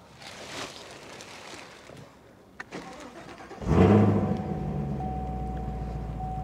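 A Chevrolet Camaro ZL1 convertible, a 2023 model, cranks briefly and fires up with a loud rising roar, then settles into a steady, deep idle with a faint whine, preceded by quiet cabin sounds and a small click.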